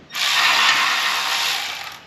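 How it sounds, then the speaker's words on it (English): A ratchet or power tool working loose the shock bolts on a Jeep Wrangler JL axle, a loud continuous whirring buzz lasting about two seconds, close and alone. "I'm going to take these shock bolts off here and support the axle and then pull the shock off."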